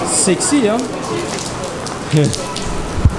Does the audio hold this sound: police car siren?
no